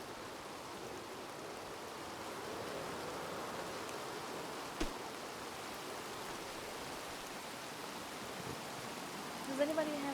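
Steady rain in the WildRP roleplay game falls as an even, broadband hiss that fills the whole stretch, with a brief sharp tick midway and a few small knocks near the end.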